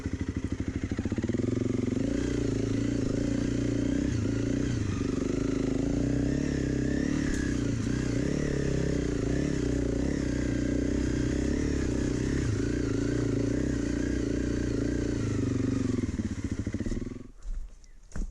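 A Honda CRF 300 Rally dual-sport motorcycle rides off-road, its engine droning loud and steady close by for most of the ride with some clatter, then dropping off near the end.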